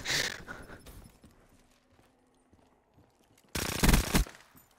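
Video game machine gun firing close and loud, with a rapid burst at the start and a second dense burst near the end, separated by a quiet stretch of faint game noise.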